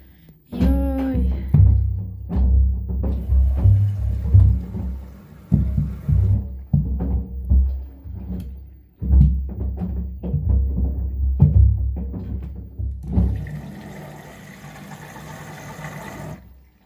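An LG F2V5GG9T washer-dryer washing sneakers on a TurboWash 59-minute, 40°C, 1000 rpm cycle thumps and sloshes as water pours in, with loud low rhythmic knocks from the drum and a rising hiss of water near the end.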